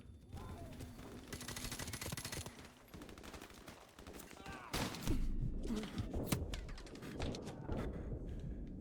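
Gunfire in Call of Duty 4: Modern Warfare Remastered, with bursts of rapid automatic shots and thumps coming and going amid battle noise, and a voice speaking briefly in between.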